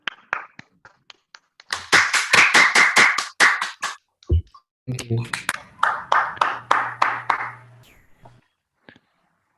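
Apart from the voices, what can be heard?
audience applause for a speaker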